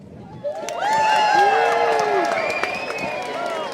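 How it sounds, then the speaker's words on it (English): An audience at the 46th annual Tuba Christmas concert in Victoria, BC, Canada, claps and cheers for a cedar tuba, with whoops and rising shouts above a steady, fairly loud wash of applause. "you're just going to give me a round of applause for this"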